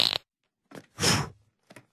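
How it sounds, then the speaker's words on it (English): A cartoon fart from the Family Guy series: a short burst, then a louder, fuller blast in the middle and a faint trailing puff, each separated by silence. "It's gonna take a lot more than a fart in my face"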